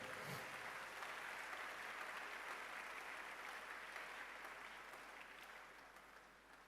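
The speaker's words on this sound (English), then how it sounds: "If I don't ask you to clap and you are clapping, you better clap well." Sustained crowd applause at a church gathering, a dense even wash of clapping that stays steady and slowly fades near the end, heard alone without speech.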